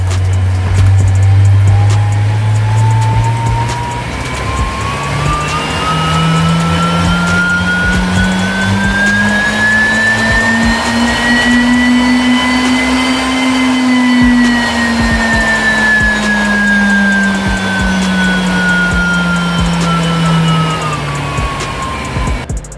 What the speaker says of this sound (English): if I go into an easy gear and I spin, the trainer counteracts my spinning